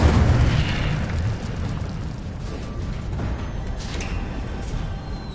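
An Incendio fire spell is cast in a Harry Potter video game, bursting out as a loud, broad whoosh and boom that fades to a sustained rumbling roar.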